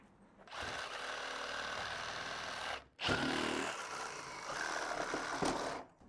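A Sawzall reciprocating saw cutting along the sides and bottom of trim in a 150-year-old house, running loud and steady in two long bursts separated by a brief pause.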